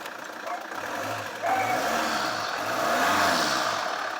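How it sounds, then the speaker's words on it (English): A Holden Captiva diesel engine fitted with a pod air filter revs up a couple of times, rising and falling in rpm from an idle as a voice speaks faintly. "give it a couple of revs."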